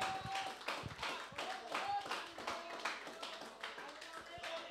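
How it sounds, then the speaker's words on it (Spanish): Congregation claps during a Spanish-language church sermon, steady rhythmic hand claps filling the room with voices mixed in underneath. "Si le va el aplauso, dáselo fuerte para el Señor."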